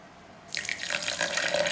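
Water poured from a tap into a mixer jar of rice batter for a Kerala vattayappam or kallappam, starting after a brief quiet moment and then running as a steady, fairly close splashing stream.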